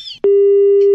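A phone call ends with a sharp click, then a loud, steady electronic disconnect tone held close and alone for most of the second after the line is cut.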